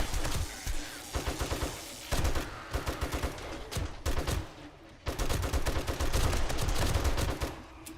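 Automated turrets firing in the 7 Days to Die video game: rapid, loud, evenly spaced shots in long sustained bursts, separated by a few short pauses, close and dominant with no talk over them.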